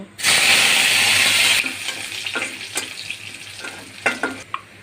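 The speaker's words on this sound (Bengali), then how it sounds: "এখন দিয়ে দেব দুটা শুকনো মরিচ পাটের শাকের মধ্যে আমরা পেঁয়াজ ব্যবহার করব না শুধু শুকনো মরিচ আর রসুন দেব" Garlic and two dried chillies hit hot oil with a loud, bright sizzle that quickly settles into a softer crackle, with occasional stirring clatter.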